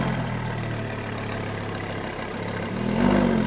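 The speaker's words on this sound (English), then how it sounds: "The beautiful sound of a Lamborghini." Lamborghini engine running close by with a deep, steady, rumbling idle that swells louder toward the end, heard alone without any voices.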